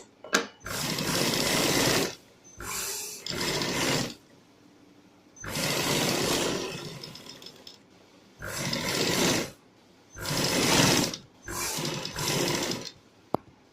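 A sewing machine stitches around the neckline of a designer garment in several bursts of steady running, each lasting one to two seconds, separated by brief pauses, close and fairly loud with no talking.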